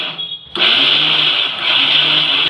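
A mixer grinder grinds soaked sago pearls into a paste: a short quiet lead-in, then the motor kicks on loud and close with a steady high whine that holds to the end.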